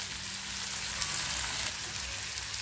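Ginger paste with curry leaves and green chilli sizzles in hot oil for potato bread pakoda, a steady, fine crackling hiss that stays even and moderately soft throughout.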